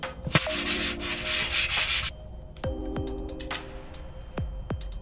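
An abrasive grit strip rubs against a crankshaft journal in a BMW E36 M3 road race engine build, giving close, loud raspy sanding strokes in a sustained burst, then short separate scrapes and a few sharp taps, with no talking.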